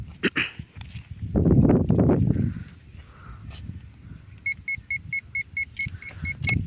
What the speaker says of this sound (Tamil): நிறைய பீப் சவுண்ட் வந்துகிட்டே இருக்குது.